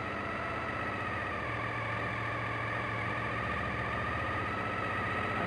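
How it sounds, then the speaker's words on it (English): A Suzuki TL1000S motorcycle engine idles at about 2000 rpm, giving a steady, continuous close-up hum with an even low throb that doesn't change throughout. "Keeping the idle at 2000."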